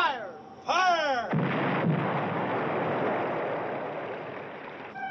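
Naval mine detonations in an old black-and-white monster film, a loud blast after a brief whistling sweep, followed by a long rumbling roar that fills the air and slowly fades.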